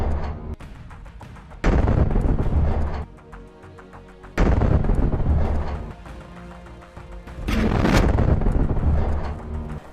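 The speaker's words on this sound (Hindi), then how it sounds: "इसके बाद एक मेरकावा टैंक को धमाके के साथ उड़ा दिया जाता है।" A remote-detonated blast destroys a Merkava tank in Gaza, heard as a series of heavy, booming explosive roars and rumbles that surge loudly several times, with windy outdoor noise between them.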